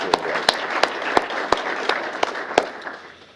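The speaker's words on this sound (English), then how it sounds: "So let's have a round of applause for Richard Grover." An audience at a mayor's employee recognition awards ceremony claps for a fire department employee, a steady patter of applause with sharp individual claps standing out, fading toward the end.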